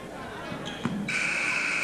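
A buzzer ends the first half of a high school boys basketball game in a gym, a sustained loud electronic tone starting partway through and holding steady, preceded by a brief bounce thud amid crowd noise.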